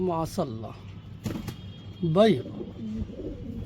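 Pigeons coo in short, soft throaty bursts close by, mixed with someone talking and some faint clatter.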